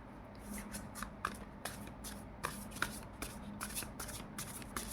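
Oracle cards are shuffled by hand for a reading, giving a rapid run of crisp riffling and flicking sounds, close and fairly quiet, with no talking.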